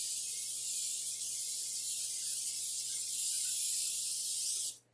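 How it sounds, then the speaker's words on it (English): Cooking oil spray hisses steadily onto a cornbread pan for a Southern collard greens and cornbread meal, one long continuous close spray that cuts off sharply at the end. "I use the pan butter or whatever spray you want. Spray this liberally on your pan."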